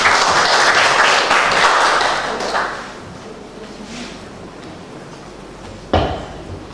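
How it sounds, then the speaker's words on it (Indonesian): An audience at a book launch for Papuan folk tales claps for the author, a full burst that fades out over the first few seconds, leaving a quiet room with a single sharp knock near the end. "Dengan hormat disilakan kita beri tepuk tangan"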